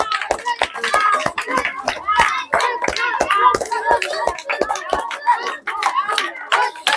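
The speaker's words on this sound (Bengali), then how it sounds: "সবাই জোরে করে হাততালি হবে" Audience clapping during a children's balloon-blowing game, rapid irregular hand claps close by, mixed with children's voices and chatter.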